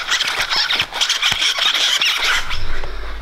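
Shoes squeaking while walking, a run of sharp, high squeals and squeaks at close range, repeating with the steps, alone without talk.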